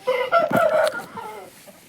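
A young crossbred rooster kept at home lets out a loud, close crow in a few strong bursts, then trails off into softer clucking notes, with no one speaking.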